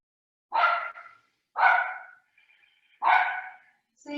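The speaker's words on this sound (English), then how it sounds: "sorry, that's my dog." A pet dog barks during a home yoga class, giving three sharp, loud barks at roughly one-second gaps and starting a fourth at the end, with faint sound between barks and no speech.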